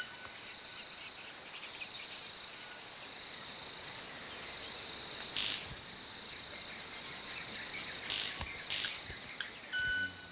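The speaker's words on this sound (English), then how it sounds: "the sounds come not from the bird's mouth, but from its wingtips" A manakin bird makes high-pitched calls with its wingtips: a steady, thin, ringing tone holds throughout, with a few brighter bursts, over a quiet outdoor background.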